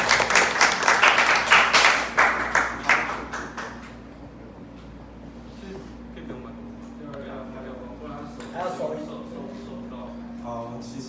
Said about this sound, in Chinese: 我们拍手鼓掌。